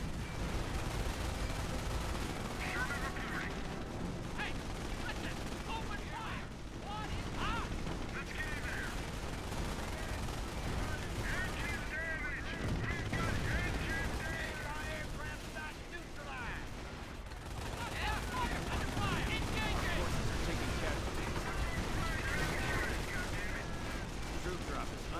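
A long Company of Heroes battle in Normandy brings continuous machine gun bursts mixed with heavier booms and explosions, a busy, loud wall of gunfire with scattered in-game voices.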